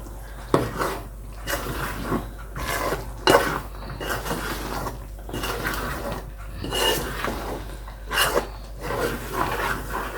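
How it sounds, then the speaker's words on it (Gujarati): Gram flour and millet flour being mixed into a spice mixture. A spoon scrapes and clinks against the bowl in irregular strokes, close and fairly clear over a low steady hum. "બંને લોટ મિક્સ કરી નાખ્યો ચણાનો અને બાજરાનો"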